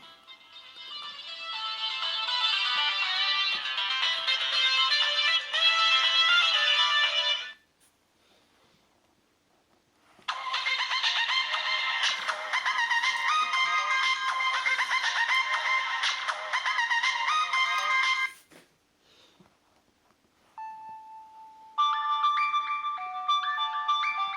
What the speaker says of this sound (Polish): teraz sprawdzimy sobie oryginalne dźwięki tego telefonu, jakie zostały wgrane przez producenta